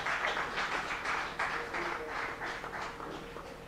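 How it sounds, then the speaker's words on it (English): An audience at an award ceremony applauds, a dense, moderately loud wash of many hands clapping that continues steadily for several seconds, fading slightly toward the end. "Please, another round of applause for him."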